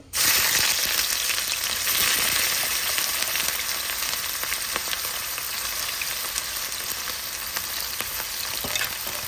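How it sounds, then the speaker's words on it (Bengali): Shrimp, onion and green chili hit hot oil together and burst into a loud, steady sizzle that holds for several seconds, with no talk. "আমি এখন তেলের ভিতরে পেঁয়াজ, কাঁচামরিচ আর চিংড়ি মাছ একসাথে দিয়ে দিব"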